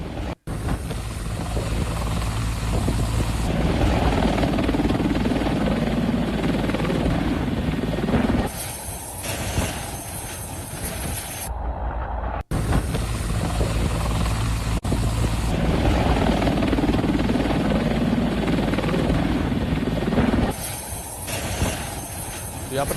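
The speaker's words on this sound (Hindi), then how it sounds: "इसमें एक आप देख रहे हैं Mi-35 अटैक हेलीकॉप्टर है, और दूसरा यहाँ पर Ka-52 एलिगेटर अटैक हेलीकॉप्टर है" Mi-35 and Ka-52 Alligator attack helicopters in flight, a loud, continuous rotor throb with a rumbling low drone that drops away briefly midway before resuming, heard alone.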